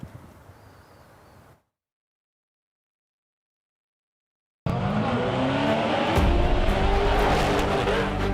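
Off-road race vehicles tear past at San Felipe during the SCORE Baja 500, a loud sustained engine roar with tire noise arriving abruptly after a brief quiet stretch and a stretch of silence.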